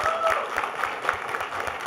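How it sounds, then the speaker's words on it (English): An audience at a university innovation competition claps for the winners, brisk steady applause filling the short moment with scattered louder individual claps. "Round of applause for our winners."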